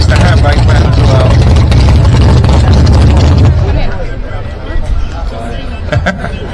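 A hot rod's exhaust rumbles loudly at a custom car show in Cornwall, a deep steady engine roar under crowd chatter that drops away partway through, leaving voices and lighter noise.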